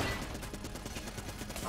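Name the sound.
shotgun firing in the video game Enter the Gungeon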